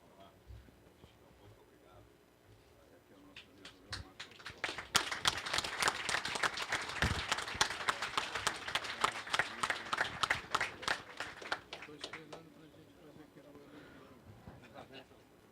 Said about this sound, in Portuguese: pedimos a todos uma salva de palmas ao nosso homenageado